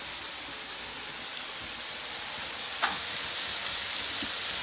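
Snails fry in a pan with salt and turmeric in a rural Indian kitchen, giving off a steady, dense sizzle and hiss with a few faint stirring clicks.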